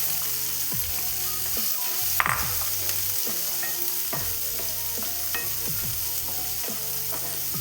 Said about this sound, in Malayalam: ഉള്ളി നല്ല അടിപൊളിയായിട്ട് വഴന്ന് വരട്ടെ